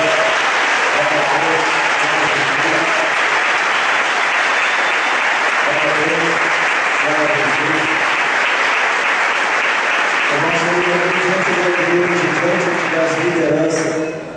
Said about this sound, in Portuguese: E eu agora gostaria que você aplaudisse o nome do Senhor Jesus